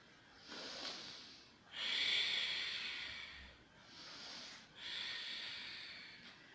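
Slow, controlled exhalations during a pilates routine, breathy hissing puffs through the mouth repeating about every second or two, close and soft with quiet gaps for the inhale.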